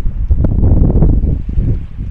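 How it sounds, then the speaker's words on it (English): Wind buffeting a microphone at an ocean shore, with a steady low rush and rumble of surf and waves that stays loud and close throughout, and no voices. "I'm sitting here and I'm listening to the beautiful ocean."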